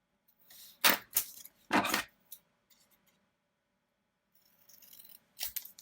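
Scissors snip through planner paper in a few sharp, close cuts, then a quiet pause and a lighter rustle and snip at the end.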